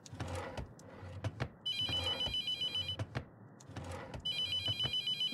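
A telephone rings repeatedly in the horror game The Mortuary Assistant, an electronic bell trilling in regular bursts with short gaps, loud and close, with no talking.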